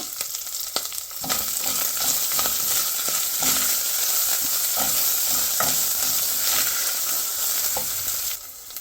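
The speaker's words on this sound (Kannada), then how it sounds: "ಇವಾಗ ಮಿಂಟು, ಕರ್ಬೇವಿನ ಸೊಪ್ಪು ಮತ್ತು ಕೊತ್ತಂಬರಿ ಸೊಪ್ಪು ಅಷ್ಟು ಹಾಕ್ತಾಯಿದ್ದೀನಿ" Mint, curry leaves and coriander leaves, added with a pinch of asafoetida, sizzle loudly in hot oil in a pan for tomato chutney, a dense continuous frying hiss with a few stirring scrapes, close up and without voices.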